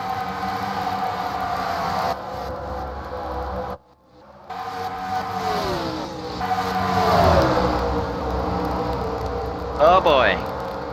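Stock race cars of the PASS Series at Kentucky roar past in a steady engine drone, with pitch sweeps as cars pass close by and a commentator talking over the noise.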